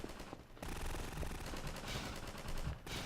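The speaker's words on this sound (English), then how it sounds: "I hear gunfire at something that isn't me" Rapid automatic gunfire from the video game Half-Life 2 rattles in continuous bursts, heard at a distance rather than aimed at the player, loud and sustained with a short pause near the start.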